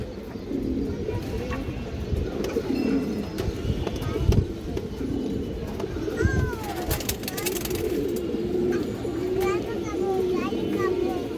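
Racing and high-flying pigeons coo softly in repeated low burbles while someone talks nearby and children's voices carry in the background.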